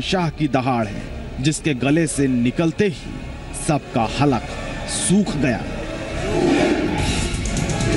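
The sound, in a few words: white tiger roaring at safari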